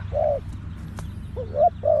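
A spotted dove coos nearby, three soft, mellow notes in a short phrase over a low background hum.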